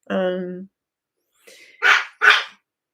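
A dog barks close by: one drawn-out whining yelp, then after a pause two sharp loud barks, with silence between them.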